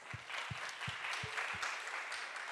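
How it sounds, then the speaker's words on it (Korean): A church congregation applauding together, a broad even wash of clapping with faint low thumps, with no voice on top of it. "교육교구 우리 박수 한번 쳐봅시다."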